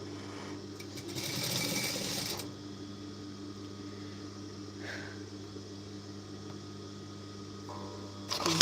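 A sewing machine stitching a blouse, running as a low steady mechanical hum with a louder whirring burst near the start, then continuing quietly with small clicks toward the end.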